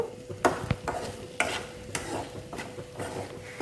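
Corn with salt and chili powder is stirred in a pan over low flame, with rhythmic scraping strokes about every half second over a light sizzle, close and without voices.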